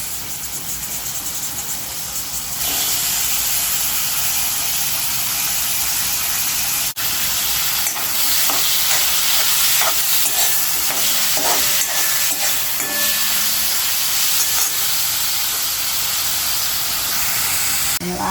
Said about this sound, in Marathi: ही कोळंबी याच्यात थोडीशी गरम करायची।